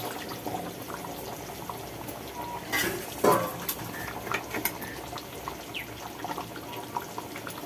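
Spice water being poured into a simmering pot of yogurt chicken and potatoes, with one brief splashing pour rising above a soft, continuous bubbling and sizzle, close by.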